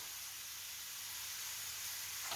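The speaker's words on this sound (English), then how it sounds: "chuck the dogs in your pan. Hear that sizzle?" A steady, broad hiss of sizzling in a pan, constant and fairly loud throughout, with no talking.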